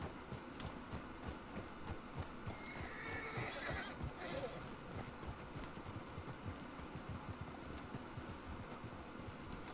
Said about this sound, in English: Very cool horse.